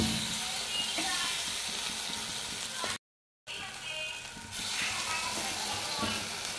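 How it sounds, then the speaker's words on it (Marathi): Appe batter hissing and sizzling in a greased appe pan, a continuous close frying hiss that cuts out briefly before resuming. "तर या पद्धतीने ग्रीस केल्यानंतर आता मी याच्यात आप्पे टाकते."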